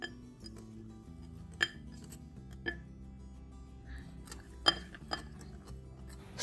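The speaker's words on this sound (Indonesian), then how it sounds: "Aduk merata." Bika Ambon batter with active, foaming yeast being stirred in a bowl, soft and quiet, with a few sharp clinks of the utensil against the bowl over a low steady hum.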